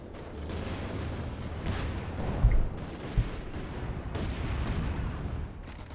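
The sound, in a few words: artillery fire hitting 6-pounder guns in Company of Heroes 2 video game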